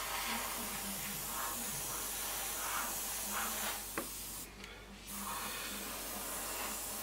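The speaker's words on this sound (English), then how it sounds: "Get our airbrush, spray that in." Airbrush spraying paint onto a 1/48 Eduard Spitfire model, a steady broadband hiss running nearly throughout, with a short break near the end before the spray resumes.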